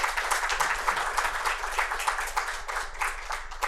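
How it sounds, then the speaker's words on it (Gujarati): An audience at a Gujarati literary lecture applauds two speakers, with soft, dense, continuous clapping that sounds somewhat distant and has no one talking over it. "બંને વક્તાઓનું ખૂબ તાળીથી અભિવાદન કરીએ"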